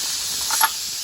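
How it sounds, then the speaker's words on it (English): Steam vents from a pressure canning pot used for tomatoes, a close, loud, continuous hiss with a brief sputtering swell partway through. "Now all that steam is gonna let out."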